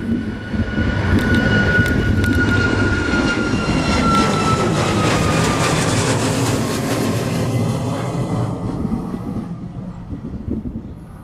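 A jet departing Maui airport roars loudly and steadily for most of the stretch, a broad rumble with a high whine sliding slowly downward, then fades away near the end.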